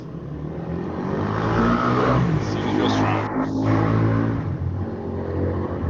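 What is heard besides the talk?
car engine revving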